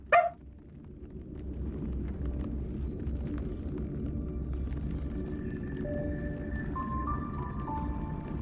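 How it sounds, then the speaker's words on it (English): A dog gives one short, sharp bark at the very start, followed by a low rumbling background and faint electronic tones, with no talking. "I think she's barking at one of the cats right now."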